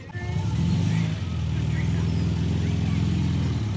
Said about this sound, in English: There goes Tom and the Jensen.